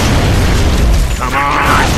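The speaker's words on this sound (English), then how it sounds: "Throwing frag!" A frag grenade detonates in the video game Gears of War 2, a loud, close, booming blast with a rumbling low-end tail, followed by a brief dip and continuing battle noise.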